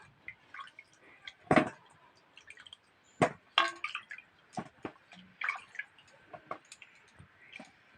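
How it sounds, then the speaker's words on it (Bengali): Raw green mangoes are washed by hand in a bowl of water, producing intermittent close splashes, drips and squishy sloshing with quiet pauses between movements. "আমগুলো জলে ধুয়ে নিচ্ছি"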